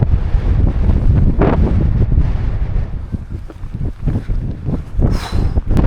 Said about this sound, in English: Bit windy.